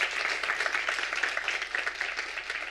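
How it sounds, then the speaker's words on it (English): Audience applause fills a hall at a graphic design symposium, a dense, steady patter of many hands clapping for nearly three seconds, moderately loud and without talk over it. "One more time, big round of applause for Sabina Scortanu."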